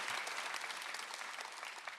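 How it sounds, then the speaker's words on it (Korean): A congregation at a Korean Sunday church service claps together, a fairly quiet but sustained, even patter of many hands heard from some distance. "박수를 한번 돌리세요"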